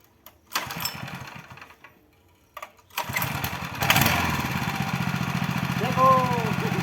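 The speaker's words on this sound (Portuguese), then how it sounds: "vamos dar uma voltinha na motinha pra nós ver" A homemade motorbike powered by a 5.5 hp stationary engine pulls the starter, catches and settles into a loud, steady, chugging putter, close by, after a few quiet seconds with brief sounds.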